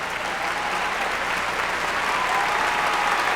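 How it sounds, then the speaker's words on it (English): Wedding guests applaud continuously, a dense, steady wash of many hands clapping at a theater-style ceremony entrance with curtains drawn open, fairly close and sustained throughout. "Everyone was applauding"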